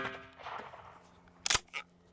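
A 12 gauge shotgun slug fired into a stack of tires gives one sharp, loud blast, followed a moment later by a shorter second crack, after a stretch of quiet background noise.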